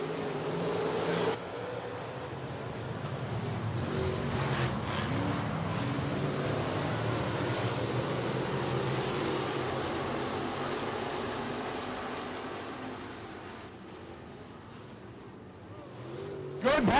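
Race cars on a dirt speedway at Dubuque, their engines droning steadily at a distance as the field circles under caution before the restart, with a commentator talking over the noise.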